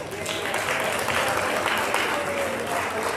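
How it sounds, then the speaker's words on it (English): A gathered crowd at an 80th birthday celebration breaks into loud, sustained applause, many hands clapping close and thick without a pause. "let's just give him a round of applause"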